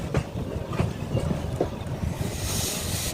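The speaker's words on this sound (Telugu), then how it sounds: "వావ్, మంచిగా కర్వింగ్ ట్రైన్" Train on a curve near Itwari on an NSCB Itwari to Katni special service, a rumbling, rattling pass with irregular clanks, heavy wind noise rising toward the end.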